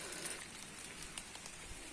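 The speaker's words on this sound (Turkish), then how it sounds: "Şu an yağmur hızlandı." Rain pouring down steadily and quickening outdoors during a chestnut-gathering outing, a dense, even patter of drops on surfaces with a few slightly sharper hits, heard alone and fairly soft.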